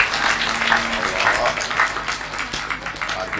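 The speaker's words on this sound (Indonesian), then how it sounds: "Tepuk tangan tuh Bu Sumiati" An audience at a religious gathering claps for Bu Sumiati, an 80-year-old woman, giving dense, steady applause that fills the clip at moderate loudness, with a voice talking over it.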